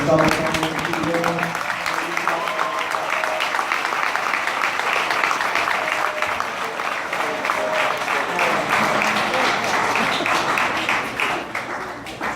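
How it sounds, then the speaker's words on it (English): Applause from an audience at a Drisha event, a long, steady wash of many hands clapping for over twelve seconds, with voices and cheers mixed in at the start. "I think all of them deserve like a million rounds of applause"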